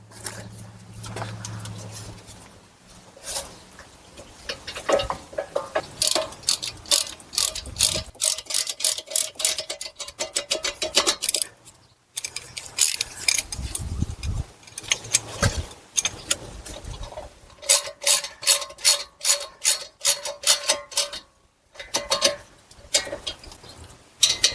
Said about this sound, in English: take these slide pin bolts and we're going to torque these to 41 foot-pounds